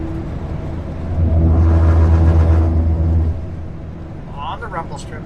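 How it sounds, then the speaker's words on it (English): A car's tires roll over rumble strips on a road near Yakima, Washington, making a loud, close, droning low buzz that swells for about two seconds and then fades back to steady road noise. "Rumble strips."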